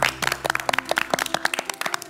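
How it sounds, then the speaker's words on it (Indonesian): A campus quiz-show audience claps in sharp, distinct, fairly quick hand claps, close and crisp, from a small group rather than a large crowd, with no speech. "Tepuk tangan lu dong untuk Muhammadiyah Cirebon."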